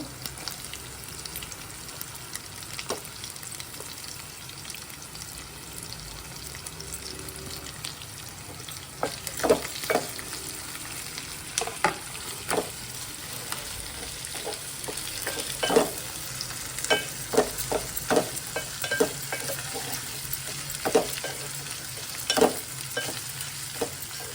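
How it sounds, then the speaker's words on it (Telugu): Green chillies and carrot fry in a pan for bagara rice, giving a steady low sizzle with scattered sharp crackles and pops that grow denser after the first few seconds. No one speaks. "కొంచెం ఫ్రై చేసి చాలు"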